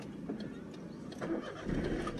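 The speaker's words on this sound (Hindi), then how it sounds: "अब क्लच दबा के स्टार्ट कर सकती है" Maruti Alto manual car's engine cranking and catching, a low rumble that swells toward the end of the short stretch, heard from inside the car.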